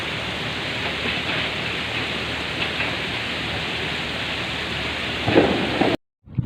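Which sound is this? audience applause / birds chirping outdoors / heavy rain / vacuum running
heavy rain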